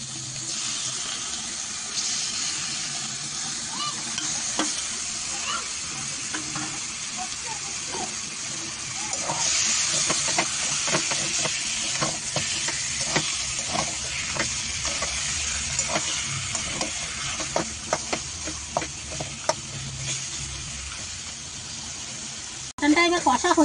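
Mutton sizzles and fries in a pan, a steady crackling hiss joined by clattering stirring strokes that grow busier toward the end, with a person talking over it at times.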